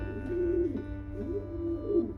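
Racing pigeons in a loft coo softly at close range, three rolling coos in slow succession against a quiet background with no talk.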